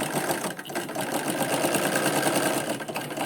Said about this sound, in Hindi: उसके बाद यहाँ पे हम शुरू में जड़ देंगे सिलाई को, उसके बाद हम आगे बढ़ाएंगे